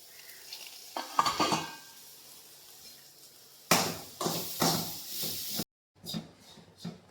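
Squid fries in an aluminium pan on a stove, with bursts of sizzling and metallic stirring and scraping that come and go, close and fairly quiet, and a brief silence near the end.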